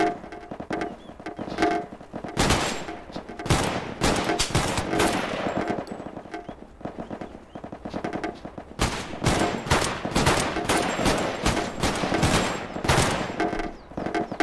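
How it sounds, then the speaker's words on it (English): Repeated gunfire strikes a house in the VR shooter game PunjiVR, loud rapid bursts and sharp cracks in clusters with brief gaps, no voices. "This is a very weird noise for the house getting shot."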